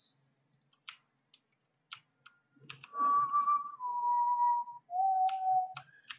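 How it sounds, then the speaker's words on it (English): A person whistles a steady, wavering tune in clear sustained notes, close and fairly loud, following scattered keyboard typing and mouse clicks while building in Cryptovoxels. "Sorry, I whistle a lot"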